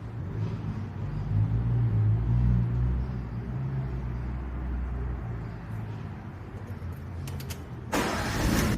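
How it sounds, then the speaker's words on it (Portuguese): A Fiat Fiorino 1.3 Fire engine idles steadily after an electronic reset, a low, even rumble close by that runs for several seconds before a sharp burst of noise at the end. "O carro está funcionando perfeitamente."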